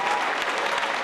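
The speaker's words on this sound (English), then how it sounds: "A huge round of applause for, without a shadow of a doubt, one of the best fights of the night so far" Loud, dense applause from an arena crowd at a kickboxing title fight, steady and sustained throughout the brief moment with no voices standing out.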